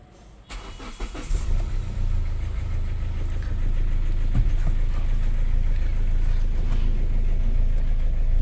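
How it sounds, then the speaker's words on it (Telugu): A 2016 Hyundai Verna Fluidic diesel engine cranks over and catches, then settles into a steady, loud, rough diesel idle that runs unbroken to the end. "అండ్ ఒకసారి ఇంజన్ కూడా స్టార్ట్ చేసి చూపిస్తానండి."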